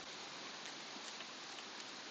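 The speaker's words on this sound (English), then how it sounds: "It's raining really hard." Heavy rain falls steadily in monsoon season, a dense, even broadband hiss that holds unchanged throughout with no voices over it.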